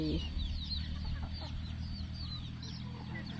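Chickens clucking on a farm garden plot, several birds giving soft repeated clucks and short calls at moderate distance over a low steady hum, with no talking.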